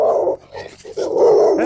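A dog outdoors in a residential neighbourhood barks and growls in short bursts, close and fairly loud, with brief pauses between the rough vocal outbursts.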